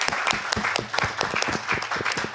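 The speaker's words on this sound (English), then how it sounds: "So I want to give a round of applause to Wayne Rosenfeld and the East Midwest Jewish Center for hosting our meeting" An audience at a community board meeting hosted at a Jewish center breaks into a short burst of applause, a dense patter of clapping hands in a room.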